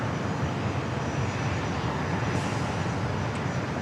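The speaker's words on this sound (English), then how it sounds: "Next arrival is Breeze, flight 754, coming from Raleigh, Durham, Airbus A220-300." Breeze Airways Airbus A220-300 arriving at San Diego airport, a steady close jet roar that holds level through the short stretch, alone without talk.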